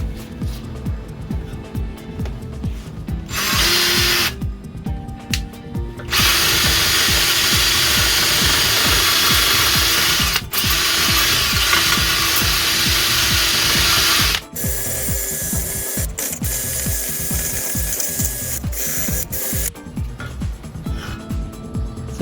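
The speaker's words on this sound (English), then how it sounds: "I have a small wire brush hooked up to my drill." A drill spins a small wire brush against the rusty fan of a C3 Corvette, giving a loud, close, harsh whirring scour in long bursts broken by short pauses and lighter ratcheting moments.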